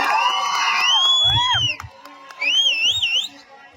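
A large crowd at a local sports match cheers and whoops, with high shrill whistles and shouts riding over the roar and a few low thumps, loud and close throughout.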